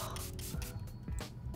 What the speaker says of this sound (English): my favorite setting spray of 2020, Fruit Fetish Make It Last from Milani Mango Coconut